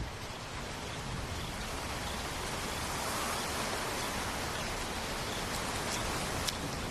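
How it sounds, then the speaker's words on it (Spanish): A steady wash of rain falls continuously in the African wild, even and fairly soft, with an occasional distinct drop standing out. "En cuanto las gotas caen al suelo"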